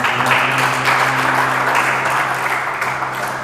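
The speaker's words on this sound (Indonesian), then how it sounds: "Beri tepuk tangan dulu buat" A church congregation claps at an Easter service, a loud dense wash of applause from many hands that fades slightly toward the end, with faint voices underneath.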